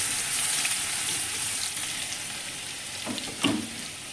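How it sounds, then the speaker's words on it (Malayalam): A tablespoon of chopped garlic dropped into about 50 ml of hot oil, giving a quiet steady frying hiss with a couple of short stirring scrapes near the end. "ചൂടായ ഓയിലിലേക്ക് 1 ടേബിൾ സ്പൂൺ ചോപ്പ് ചെയ്ത വെളുത്തുള്ളി"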